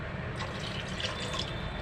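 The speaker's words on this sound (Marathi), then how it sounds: "गरजेनुसार पाणी घाला" Water is poured into a pan of browned chicken for a Malvani chicken gravy, a steady soft splashing and trickling flow that stays even and quiet throughout, with no voices.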